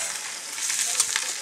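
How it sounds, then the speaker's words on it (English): Onion frying in butter sizzles steadily in a pan, a bright crackling hiss with small pops scattered through it, close and fairly loud, with no talk over it. "Going to fry those off."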